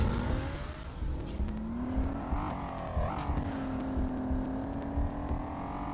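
A car driving in a video game, with a steady engine drone that rises and falls in pitch as it revs and shifts, continuous and moderately loud.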